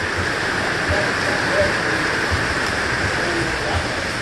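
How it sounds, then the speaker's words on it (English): Steady water spray hisses and patters continuously against a fabric zip shade screen, an even rain-like rush with no pauses. "The way this works is the water hits this screen and then just rolls down."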